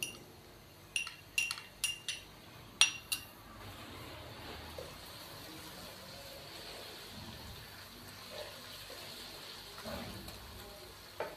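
Ginger garlic paste frying with browned onions in a pot for chicken gobhi gosht: several sharp clinks of a utensil at first, then a soft, steady sizzle.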